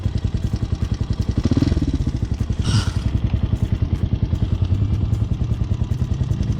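A motorcycle rides slow, tight rotations in a skill exercise, its engine pulsing in an even rapid chug at low speed, close and steady, with a brief clatter partway through.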